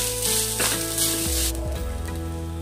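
Poppy seeds and grated coconut fry in ghee, a loud close crackling sizzle that dips as the pan is stirred, with faint clatter and a slight drop in brightness midway.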